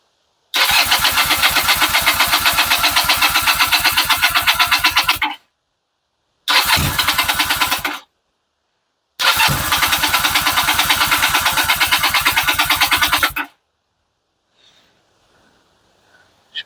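An AJS motorcycle engine on a test stand with the back wheel off the ground fires up and runs in three bursts, a loud, close, rapid-firing single-cylinder beat with brief silences between runs.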